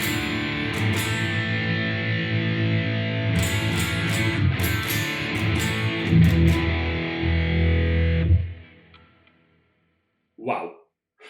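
Distorted electric guitar tone from the bridge pickup of a Mexican-made Fender Cabronita, played loud and continuous for about eight seconds, then cut off, followed by a brief faint strum or pick noise.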